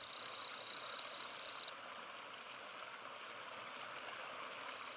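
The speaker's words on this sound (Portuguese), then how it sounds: "rugido constante da catarata" A constant broad roar of rushing water from a waterfall in the Atlantic Forest fills the clip, steady and dense, with a faint high chirp briefly riding over it at first.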